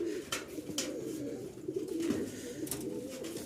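Low, throaty pigeon coos repeat steadily from a large flock nervous in a new place, with a few brief flutters or rustles mixed in, moderately close and continuous.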